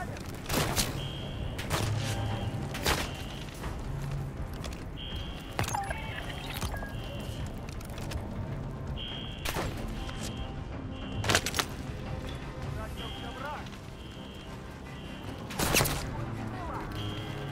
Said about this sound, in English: Where are they shooting from?